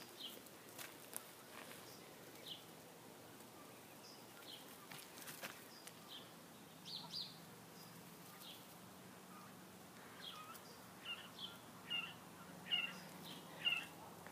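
Japanese quail in an outdoor colony pen make soft, high chirping calls, scattered and quiet at first and clustering more densely toward the end, over a faint steady outdoor hiss with a few distant light thumps.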